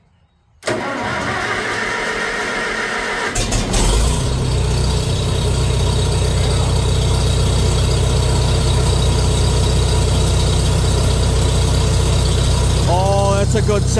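Farmall 400 tractor engine, worked with choke and throttle, cranks after a brief quiet moment, then catches and settles into a loud, steady, close running rumble, with a short squeal near the end.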